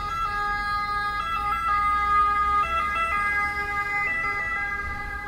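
An ambulance siren in the streets of Rome wails in a steady two-tone pattern, fairly loud and sustained over low traffic rumble, with no talking.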